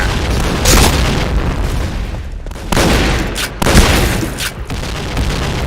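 Grenade blasts in the online shooter Point Blank, loud booming explosions that arrive in several heavy bursts one after another with brief dips between, no voices over them.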